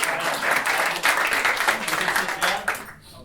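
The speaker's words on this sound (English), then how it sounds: "give him a round of applause" Audience applause fills a comedy show at a fringe festival, a dense, steady burst of clapping from a live crowd that holds for about three seconds before tapering off at the end.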